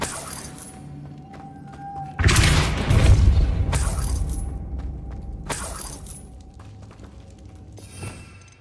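Casting Depulso, the repulsion spell in Hogwarts Legacy, sets off a sudden heavy whooshing blast. A couple more forceful bursts follow, loud and close, over a low ambient game hum.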